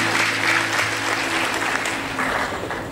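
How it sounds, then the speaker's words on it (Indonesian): A church congregation applauds after a sermon passage, dense sustained clapping from a full room that holds steady and slowly fades, with no speech. "Tepuk tangan untuk dia."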